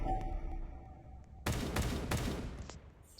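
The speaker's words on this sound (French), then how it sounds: "Coup de feu." Several loud gunshots ring out in a video game, sharp bursts fired in quick succession after a quieter stretch, each with a ringing tail, close and without talking.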